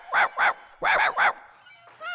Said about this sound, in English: Yeah, it's a barking dog.